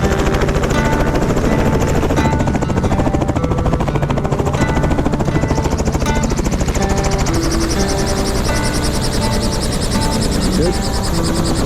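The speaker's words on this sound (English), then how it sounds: "Helicopter's fired up." A helicopter engine runs close and loud, with a steady rapid rotor chop and turbine whine throughout, and voices talk over it.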